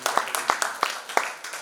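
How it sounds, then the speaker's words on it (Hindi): A theatre audience claps after a Hindi stage play performance, scattered individual claps in an irregular rhythm, fairly faint and thin rather than a full roaring ovation. "तो उस इन्वॉल्वमेंट के लिए इनके लिए अलग से ताली देनी चाहिए।"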